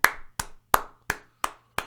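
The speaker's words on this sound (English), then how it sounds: "I'm clapping about that" Six sharp hand claps ring out close by at an even, unhurried pace, each with a short decay, and no one speaks.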